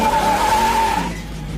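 Tires blazing on a Super Bee muscle car, a loud sustained high-pitched squeal with skidding and engine rumble beneath, fading out toward the end.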